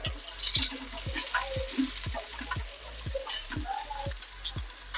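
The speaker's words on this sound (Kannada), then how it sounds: "ಇವಾಗ ಒಂದು ಸೈಡಿಂದ ಫ್ರೈ ಮಾಡ್ಕೊಂಡಿದ್ದೀನಿ" Fish shallow frying in a little oil on a tawa makes a steady, close sizzle with crackling bursts and soft scraping of a spatula or stirring, and no voices.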